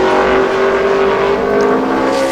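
The Geico Toyota NASCAR Sprint Cup race car roars loud and close on a qualifying lap at New Hampshire Motor Speedway, its engine a sustained high-revving whine with no talk over it.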